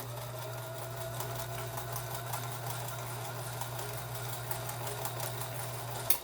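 A Kenmore sewing machine stitches steadily, its motor humming with a fast, even mechanical chatter from the needle, close and fairly quiet, running without pause before a small clunk as it stops.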